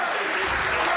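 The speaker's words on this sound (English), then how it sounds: "the crowd cheering him on" A crowd applauds at a World Poker Tour invitational poker tournament, a brief, dense wash of steady clapping filling the room without a break.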